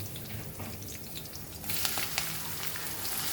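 Chopped onion dropped into a hot pan, a quiet background then a sudden rise into bright, steady close sizzling and frying with small crackles and pops.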